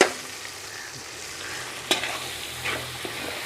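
Garam masala, black pepper and turmeric fry in the pot for an aloo matar pulao, a soft close sizzle broken by a couple of sharp scraping stirs.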